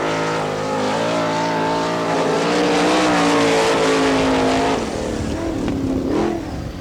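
A sprint car runs a qualifying lap on a dirt track at an All Stars NCRA race in Wichita, Kansas. The engine screams loud and near with rising and falling revs, then the pitch drops off as the car passes.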